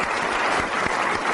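A studio audience claps in a dense, even burst of applause, loud and close, filling the short moment without any voices.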